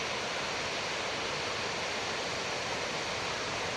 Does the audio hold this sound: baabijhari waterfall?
yes